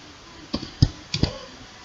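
Three sharp clicks of keys pressed on a computer keyboard for a Ctrl C copy shortcut, spaced unevenly within a quiet moment, close and fairly soft.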